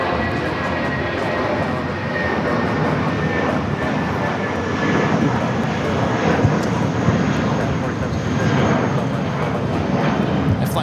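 A Spirit Airlines jet at LAX airport roars steadily as a loud, continuous broadband engine rumble with a faint high whine, sustained for the whole stretch without a break.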